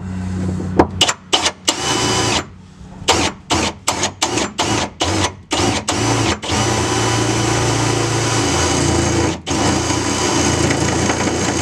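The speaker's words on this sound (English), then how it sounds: "gotta drill the holes for our U-bolt brackets. We'll do that now." A power drill revs in short repeated bursts, then runs steadily while boring holes through a metal truck frame, loud and close, with brief pauses between.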